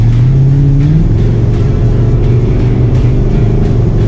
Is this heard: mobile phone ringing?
no